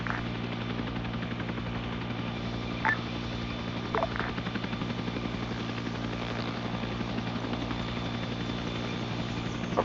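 Helicopter flying in a Vietnam War video game, a steady rotor and engine drone running throughout with a few faint clicks and blips on top, no talk.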